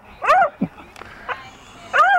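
Several short dog yips and whines sound during an outdoor baseball game, fairly close and clear, with little else around them.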